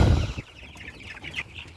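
Chicks cheep in quick, high, thin peeps, several overlapping, after a short burst of low rustling or handling noise close by.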